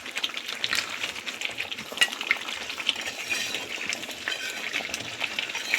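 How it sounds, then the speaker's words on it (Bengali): Chicken pieces are stirred and fried in a pan, a spoon scraping and clinking in an uneven rhythm over a soft, steady sizzle, close and fairly quiet. "ভালো করে আবার একটু নাড়িয়ে দিলাম"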